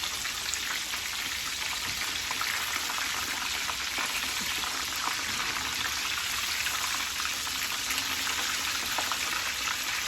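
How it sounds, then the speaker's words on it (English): Gluten-free breaded chicken cutlets sizzle steadily in a frying pan, a dense, continuous crackle of hot oil with fine popping throughout, close and fairly loud with no talking. "I'll show you guys how it's sizzling"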